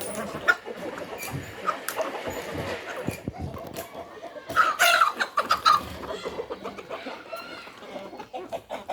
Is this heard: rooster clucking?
yes